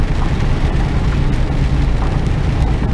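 Steady broadband roar of heavy road noise and tyre spray from an HGV container truck driving in rain in the UK, a constant wet rushing hiss with a deep engine rumble underneath, close and loud throughout.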